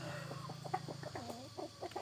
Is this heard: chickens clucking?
yes